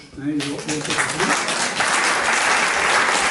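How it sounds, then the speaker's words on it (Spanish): An audience at a talk on migration in a packed assembly hall breaks into applause, sustained clapping rising and holding steady, with a voice speaking over the opening moments. "también creo que os debéis un aplauso"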